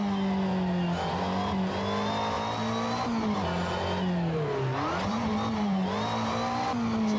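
A race car engine in Assetto Corsa VR, driven on the Pont des Abarines hill climb, drones loud and steady the whole time, its pitch rising and falling with shifts and throttle.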